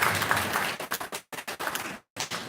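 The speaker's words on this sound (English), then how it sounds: "Please give them a tremendous round of applause" An audience applauding after a magic show introduction, a loud burst of clapping that swells and breaks off in short gaps before resuming.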